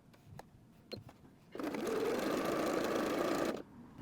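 A few light clicks, then a sewing machine runs a stretch stitch on knit fabric in one close, steady two-second whirring burst before stopping.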